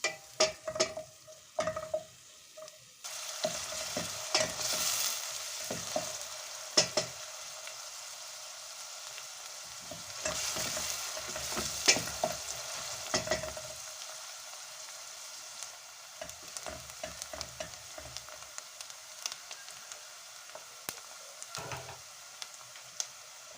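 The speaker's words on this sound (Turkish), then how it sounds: "sıvı yağımızı da döktüm soğanlarımızı pembeleşene kadar kavuracağım" Onions sauté in about half a tea glass of oil in a pot, a soft continuous sizzle broken by intermittent scraping and stirring clicks, fairly quiet and close.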